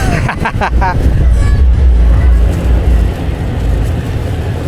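A Sampri Dairi mountain bus and a large truck pass on a road at night, a loud, close engine roar with revving and rushing road noise, a brief honk-like tonal burst at the start.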